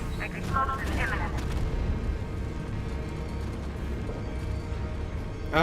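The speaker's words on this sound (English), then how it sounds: "Warning, explosion imminent." An explosion at Ace Chemicals in the video game Batman Arkham Knight, heard as a loud, dense, continuous roar of rumbling blasts and debris that holds steady for several seconds.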